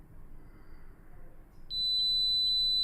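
A continuity tester checking the traces on a circuit board gives one steady, high electronic beep that starts partway through and holds to the end, after a quiet room-tone stretch.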